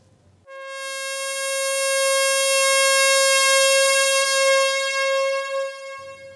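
A single long, steady shofar blast rich in harmonics, sustained for about five seconds and rising slightly before it fades, sounding alone without talk.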